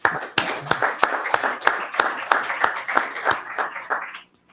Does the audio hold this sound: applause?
yes